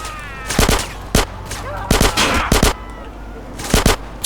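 Gunfire in GTA San Andreas rings out in loud, close bursts of rapid shots, spaced by short gaps, with in-game voices and ambient sound between the volleys.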